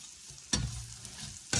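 Onions sautéing in a pan for chicken chow mein, a steady low sizzle with two sharp bursts where the spoon stirs or scrapes, close and fairly quiet.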